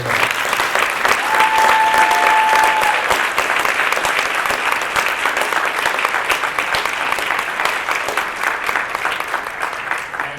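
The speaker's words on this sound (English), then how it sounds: "So can we just give them one more round of applause for that part?" Sustained applause from a large audience after a junior high percussion ensemble performance at the KMEA conference, dense steady clapping that stays loud for the whole stretch with only a slight easing toward the end.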